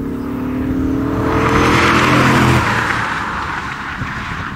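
A 2001 BMW Z8 Roadster passes close by, its engine note swelling to a peak and then fading as it moves away, a single smooth pass with no voices.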